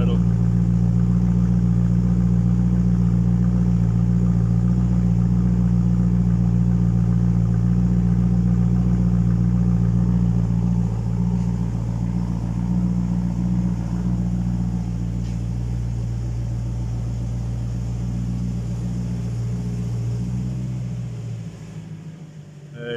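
A BMW E92 M3 V8 with a modified exhaust idles nearby with a steady, loud, deep rumble that eases slightly toward the end, with no talking over it.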